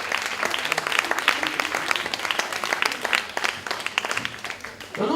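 Steady audience applause fills a party evening event in France, dense clapping from a sizeable crowd running continuously at close range with no pauses.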